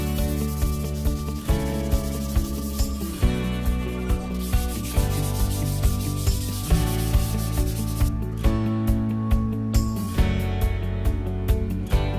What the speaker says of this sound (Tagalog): kailangan nating lihain ito ng 120 grit